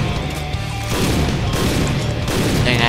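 Rapid gunfire in the shooter game Point Blank, a continuous loud burst of rifle shots and booms blending into a dense, steady roar for a few seconds.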